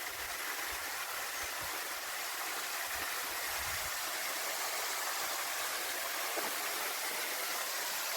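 A waterfall and stream up in the rocks beside a quiet picnic area in Portugal, giving a constant hissing rush of falling water that stays even and fairly close throughout, with no talking.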